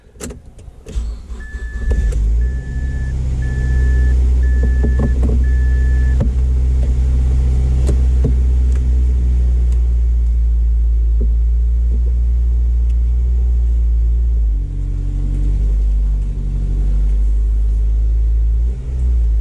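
A rusty Mazdaspeed 6 with a manual gearbox drives on its first outing after revival, its engine giving a loud, steady low rumble throughout, with a brief whining tone early on and slight shifts in pitch later.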